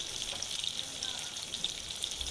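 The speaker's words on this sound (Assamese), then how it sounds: "তাৰপাছতে মাছখিনিও এনেদৰে ফ্ৰাই কৰি আছোঁ" Fish pieces frying in a pan give a faint, even crackling sizzle that runs steadily at a low level, with no talk.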